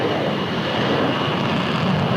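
Steady, loud aircraft engine roar from an airplane approaching the aircraft carrier USS Nimitz for recovery at sea, a continuous broadband drone with no pauses and no talk.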